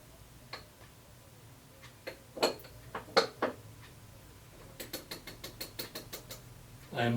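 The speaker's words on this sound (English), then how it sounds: "I'm tapping the handle of my hand wheel." Light taps on the handle of a milling machine hand wheel, a scattered run of small metallic ticks that settles into a quicker, even series, faint and close with no talk.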